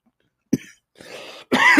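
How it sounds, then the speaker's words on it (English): A person coughs a few times up close, first a short sharp cough, then a breathy one, then a harsher, longer cough at the end. "I just have coughs come up out of nowhere."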